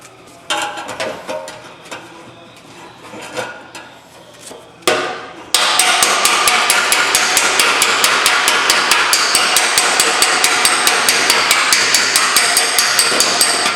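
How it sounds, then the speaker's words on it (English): Steady, rapid hammer blows on sheet metal backed by a dolly during extreme dent repair, loud and close, in an even rhythm that fills the second half after a few scattered taps and handling noises. "Now I'm moving this dolly around as I work it"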